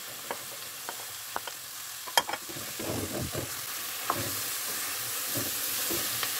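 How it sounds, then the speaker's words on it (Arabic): Onion, pepper and zucchini sizzle steadily in a pan while being stirred, with scattered scraping clicks of the utensil over a constant frying hiss. "غنحرك مزيان هاد العناصر"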